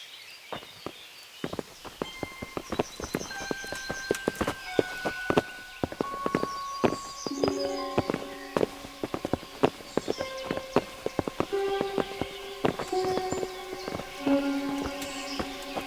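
Horse hooves clip-clop steadily across the ground in medieval Bohemia from Kingdom Come: Deliverance, a close walking rhythm of repeated strikes, with tonal musical notes and faint background ambience alongside.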